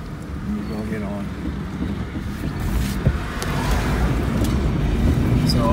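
Strong wind buffets the microphone in a constant roar that grows louder toward the end, with a voice speaking briefly underneath, on a hot windy day in The Gambia.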